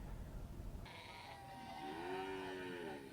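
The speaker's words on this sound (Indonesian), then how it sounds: "Beginilah pemandangan di Pasar Hewan Tumpang pada minggu keempat puasa" Cattle and goats call out at the Pasar Hewan Tumpang livestock market, with a long, clear moo rising out of a busy, murmuring outdoor market background.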